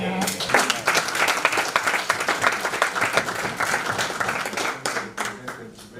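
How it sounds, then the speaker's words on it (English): An audience at a wildlife conservation symposium at CAWM Mweka claps steadily for several seconds, a dense patter of hands that thins toward the end, with voices audible underneath. "I think you deserve another clap for being the youngest presenter"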